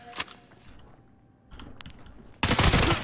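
A loaded M4 rifle opens fire in Escape From Tarkov: a sudden, loud burst of rapid shots rings out at the end after a stretch of quieter rustling and clicking.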